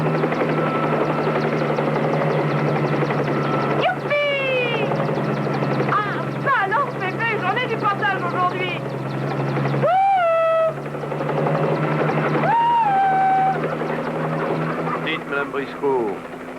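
A steady, loud helicopter-like rotor drone runs throughout while voices speak over it with rising, expressive tones.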